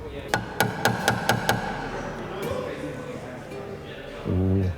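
A small hammer strikes a 289 Shelby Cobra in a classic car garage: six sharp metallic taps in quick, even succession, close and loud, followed by a voice talking.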